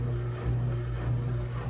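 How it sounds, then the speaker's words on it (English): An RV water pump runs while pumping water out of the lines during winterizing, a steady low mechanical hum with a constant tonal drone, close and continuous throughout. "So it's pumping that water out."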